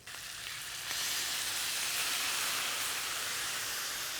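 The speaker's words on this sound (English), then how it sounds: "I've got dark soy first because I want it to start to bubble up and caramelise immediately" Dark soy sauce hits a hot pan over medium heat for red braised pork ribs, bursting into a loud, continuous hiss and sizzle of bubbling, caramelising liquid that holds steady to the end, with no talking.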